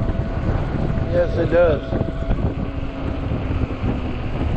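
Steady wind buffeting the microphone with a low rumbling roar on a freezing October e-bike ride, while a person speaks briefly over it.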